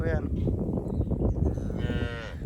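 A cow moos close by with a long, low drawn-out call that swells and fades, followed by a second rising moo, set against farmyard background noise.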